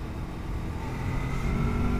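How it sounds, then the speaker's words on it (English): A Lexmoto LXR 380 SE motorcycle engine brakes while riding, a steady mid-pitched engine drone under wind rumble, gradually growing slightly louder. "Engine braking."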